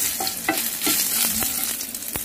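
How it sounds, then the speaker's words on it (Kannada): Mustard seeds spluttering in hot oil with curry leaves and dry red chillies, a continuous loud close sizzle punctuated by sharp scattered pops, with no talk. "ಸಾಸಿವೆ ಚಟಪಟ ಅಂದಿದೆ, ಕರಿಬೇವು ಮತ್ತು ಒಣಮೆಣಸಿನಕಾಯಿ ಹಾಕಿದ್ದೀನಿ."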